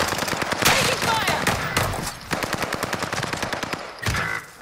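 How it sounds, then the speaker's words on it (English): Rapid bursts of machine gun fire rattle close and loud in a WWII Pacific video game, with repeated rounds and short pauses between volleys, while voices call out over the shooting. "Taking fire!"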